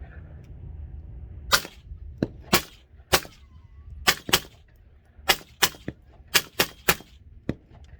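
A Law Tactical folding-stock AR rifle, stock extended, fires a full magazine as about a dozen sharp, loud reports in an irregular, steady string over several seconds, each crack standing out clearly against low background hum.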